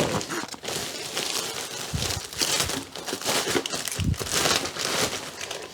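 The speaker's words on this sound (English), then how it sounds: "I'm packing some salt in a Ziploc bag" Close, busy crinkling of a plastic Ziploc bag of salt being handled and squeezed, with irregular crackling bursts throughout and no talking.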